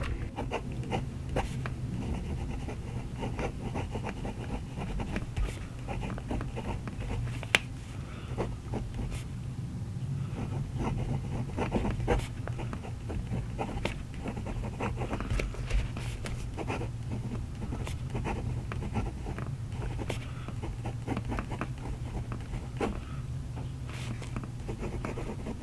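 A Hongdian 100 fountain pen nib scratches across paper in soft, irregular strokes with faint ticks and scrapes, quiet and close, with no talking.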